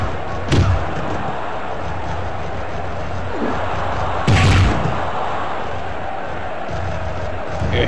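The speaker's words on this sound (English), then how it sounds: "Smoke man slamming." A wrestler slams an opponent onto the ring, giving two heavy, booming thuds about four seconds apart, over a constant roar of crowd noise with a voice talking underneath.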